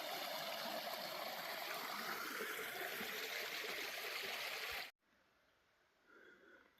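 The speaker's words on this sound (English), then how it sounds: "they've got a very nice bridge built over the creek and a babbling brook" A babbling brook runs beneath a bridge on a creek along the trail, a dense, steady rush of flowing water that stops abruptly and leaves faint background noise.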